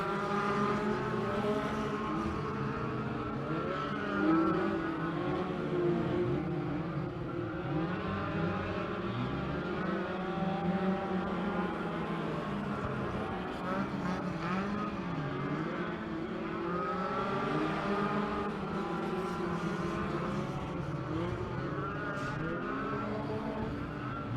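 Midget race cars on the Skagit dirt track drone and snarl in a continuous high engine whine that rises and falls as cars circle and pass, fairly distant and sustained.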